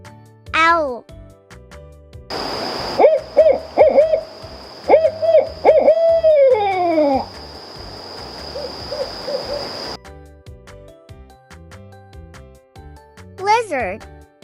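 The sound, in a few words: owl hooting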